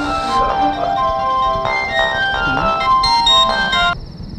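A phone rings during a comedy film scene, playing a melodic electronic tone in short repeated phrases for about four seconds, fairly loud and close.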